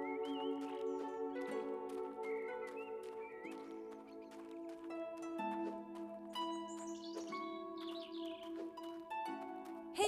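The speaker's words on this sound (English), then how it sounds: "When the bird whistles, it means a quest item is nearby." A bird whistles in the Android game The Trail, marking a nearby quest item; short chirping sweeps come over a steady layer of tonal game music.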